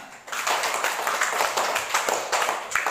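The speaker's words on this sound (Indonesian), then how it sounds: "Silakan tepuk tangan untuk kelompok cendana." Students in a classroom applaud the Cendana discussion group with brisk, closely spaced hand claps, a busy steady patter of moderate loudness lasting throughout.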